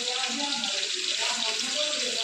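Hot water runs steadily from a tap with a close, continuous splashing hiss and no pauses.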